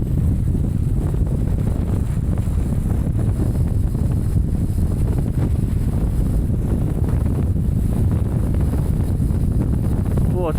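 Strong wind buffets the microphone on Hedgehope Hill in the Cheviots, a steady, loud roar and rumble with no break across the whole stretch.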